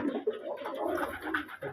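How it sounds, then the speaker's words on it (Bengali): A pet pair of pigeons coos briefly indoors, one low, throaty rolling coo heard close and fairly quiet. "একজোড়া কবুতর রাখছি আমি শখে"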